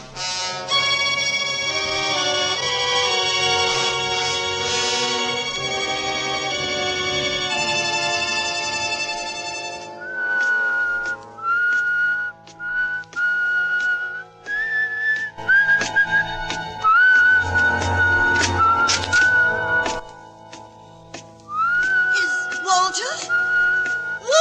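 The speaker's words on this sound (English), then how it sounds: "Remember my whistle, huh?" A man whistles a melody in a 1948 radio drama, clear tonal phrases that start and stop over about fifteen seconds, preceded by an orchestral music passage and with some short breaks between phrases.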